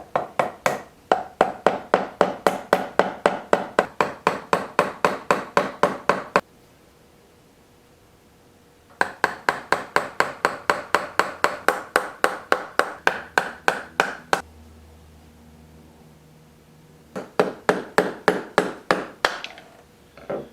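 A chisel strikes a wooden root ball bowl in rapid, evenly spaced sharp knocks, grouped into three bursts separated by quiet pauses, loud and close with no talking.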